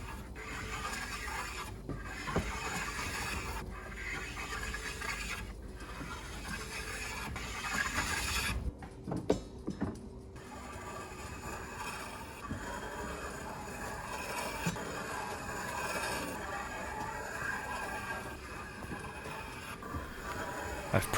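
A hand planer shaves wooden bed slats in repeated rasping, scraping passes, close up, with short pauses between strokes and a brief quiet gap midway.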